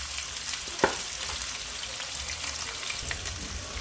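Salmon pieces fry and brown in a hot pan, giving a steady close-up sizzle with crackling pops and a sharp spatter near the start, no voices.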